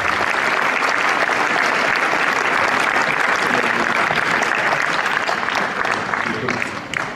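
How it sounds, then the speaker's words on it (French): A large crowd at a sports awards ceremony applauds loudly and steadily, a thick wash of clapping that holds throughout and tapers slightly at the very end. "On les applaudit bien fort"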